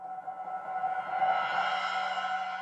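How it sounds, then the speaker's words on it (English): A soft, sustained cymbal swell serves as a transition in ambient music. It shimmers steadily at a moderate level throughout, blending with a quiet tonal pad and no sharp attack. "I like to combine it, to glue it with a cymbal sound"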